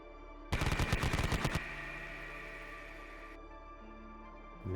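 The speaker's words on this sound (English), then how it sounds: "the Japanese platoon commander now takes the opportunity and opens fire with his LMG" A simulated light machine gun fires in a tabletop wargame: one loud, rapid burst of about a second, followed by a fading echoing tail and low hum.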